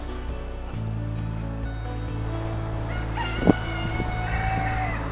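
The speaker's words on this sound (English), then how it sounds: "It's a rooster." A rooster crows on a farm near a horse center: a strained, rising cock-a-doodle-doo in the second half, heard over a steady low engine hum, moderately close.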